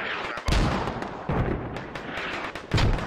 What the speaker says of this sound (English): There's some pretty heavy AR fire from that intersection. More mortars coming out.